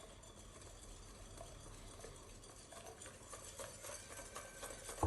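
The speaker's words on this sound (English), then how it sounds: "We whisk that in." Butter is whisked into hollandaise sauce: a quiet, continuous scraping and swirling of a whisk against the bowl that grows a little busier toward the end.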